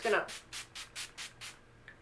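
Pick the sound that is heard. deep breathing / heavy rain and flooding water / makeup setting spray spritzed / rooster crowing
makeup setting spray spritzed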